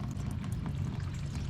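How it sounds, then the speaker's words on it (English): Water pouring and gushing steadily out of the transaxle of an old Japanese tractor being refurbished, a continuous close, fairly loud splashing rush with a low rumble underneath, no talk. "Look at all the water coming out of that transaxle."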